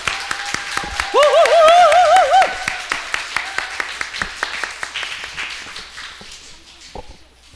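Scattered clapping from a church congregation at a Christmas thanksgiving service, greeting an ensemble just back from a Southeast Asia tour before its Christmas medley; sparse, moderate claps run throughout, with a sustained ringing tone briefly rising over them early on.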